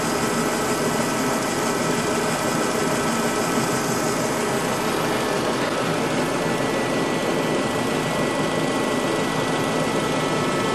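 A 2005 Dodge Neon engine idles roughly with heavy vibration, a loud, steady broadband rumble and rattle running unchanged throughout with no voices.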